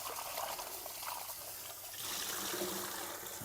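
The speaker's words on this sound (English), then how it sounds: "we're going to go over to the sink and we're going to give these a bit of a wash out" Tap water runs steadily into a sink as raw potatoes cut for chips are rinsed of starch, a continuous splashing trickle with no voices.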